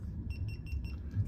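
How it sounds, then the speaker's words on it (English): Repeated high electronic beeps pulse over a low steady rumble, a truck's vibration alarm sounding in short bursts. "That set off the alarm in my truck."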